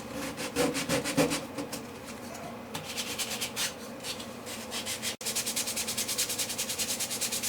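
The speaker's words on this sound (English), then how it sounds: "So I might as well get this end sanded now the way I want it." Wooden guitar top braces being hand-sanded after chiseling, a rhythmic rasping scrape in quick back-and-forth strokes, close and steady with a brief pause midway and no talking.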